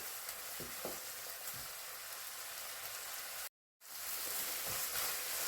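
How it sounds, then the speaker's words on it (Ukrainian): Garlic and carrots stewing in oil in a pan, a steady close sizzle with occasional soft stirring scrapes, broken by a brief cut to silence before the sizzle resumes, no talk. "гарно перемішую, чесничок, морквочка, щоб все перемішалося, так підтушилося"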